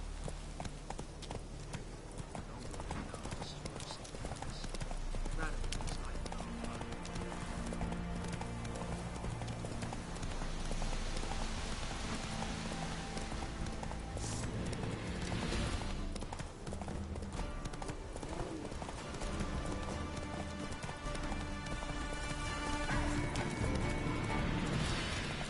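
In The Witcher 3, a horse gallops through rain with rapid, continuous hoofbeats, close and busy, under a rainy game soundscape with a brief whinny and a faint voice.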